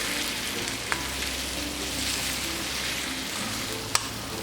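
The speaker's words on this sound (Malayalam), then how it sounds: "ഇതിലേക്ക് ഈ പട്ട പൊടിച്ചതും ഏലക്ക പൊടിച്ചതും ബട്ടറും ചേർത്ത് നന്നായിട്ട് ഇളക്കി യോജിപ്പിച്ചെടുക്കാം" Dates mixed with ground cinnamon, cardamom and butter cooking over a low flame, a soft even sizzle with two brief spatula clicks against the pan.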